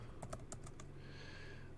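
Faint keystrokes tap on a computer keyboard, a handful of quick clicks in the first half second, then a quiet room hum.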